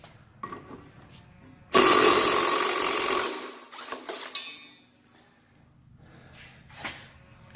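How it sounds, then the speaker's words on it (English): An impact wrench loosens a mower blade bolt on a Cub Cadet RZT L 46-inch fabricated deck, firing one loud, close, sustained rattling burst of about a second and a half, followed by a few lighter clanks. "I'm going to try to use my impact wrench maybe to make my life a little easier"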